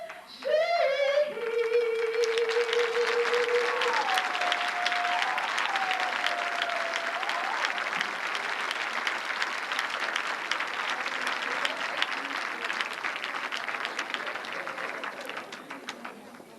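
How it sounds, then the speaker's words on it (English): Sustained audience applause at a university tribute event honoring Dr. King, opening as a sung tone fades and then continuing as a broad, even wash of many hands clapping for well over ten seconds before thinning slightly at the end. "Let's give another applause for Terry Penny."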